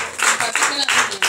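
Church congregation applauding after a Bible reading at a Sunday service, a few quick bursts of clapping in rhythmic pulses, fairly close and moderately loud, with voices mixed in.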